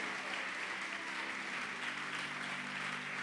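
A church congregation applauds during a service, a steady, sustained wash of clapping from many hands at moderate distance, without pauses.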